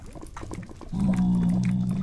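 Zombie pigmen in the Minecraft game grunting, a low guttural snorting moan that swells and holds near the end, with other game noises before it and no talking.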